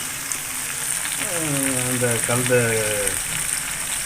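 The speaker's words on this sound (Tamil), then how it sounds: "மீல் மேக்கரை போட்டு வறுத்து நல்லா ஃப்ரை பண்ணி வறுத்து வச்சுக்கணும்" Meal maker soy chunks coated in red chili powder fry in a spoonful of oil with a steady, close sizzle while someone speaks over it.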